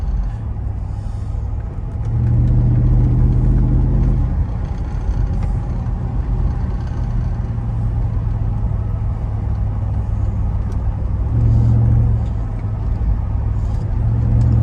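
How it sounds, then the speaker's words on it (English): Mercedes-Benz SL55 AMG with a coilover conversion, its engine a loud, close, continuous low rumble that swells under throttle twice and settles between, with no talk. "AMGs sound like AMGs"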